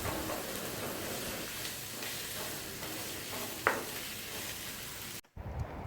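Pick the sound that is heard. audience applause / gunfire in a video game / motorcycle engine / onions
onions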